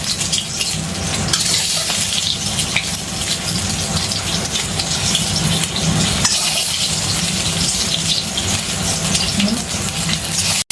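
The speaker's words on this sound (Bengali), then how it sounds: "অল্প তেলে ভাজবো ডিমগুলো" Eggs frying in a little oil in a pan for a Bengali egg-potato curry, a steady loud sizzle and crackle throughout with a constant hiss and no pauses.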